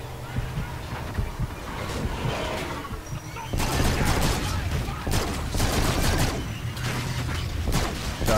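Gunfire in the video game Call of Duty: Infinite Warfare: loud, rapid bursts of shots that start sparse, then build into a dense, nearly continuous barrage.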